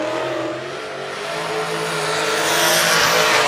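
A V8 race car engine roars on the Suzuka Twin Circuit, loud and continuous, building as it accelerates with a hint of tire squeal.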